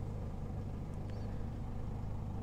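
A 2008 Jeep Cherokee engine idles at about 700 RPM with a low, steady, faint rumble and even pulsing, alone without speech.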